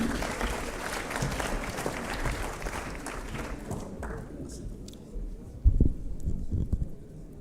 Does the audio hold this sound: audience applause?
yes